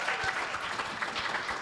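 Live studio audience applauding during a fintech and pet insurance talk show, a brief burst of clapping at moderate distance, steady and even with no voices over it.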